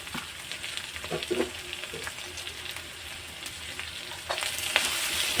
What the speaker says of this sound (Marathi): कांदा आपला चांगला तेलात झालेला आहे परतून जास्त शिजवायचा नसतो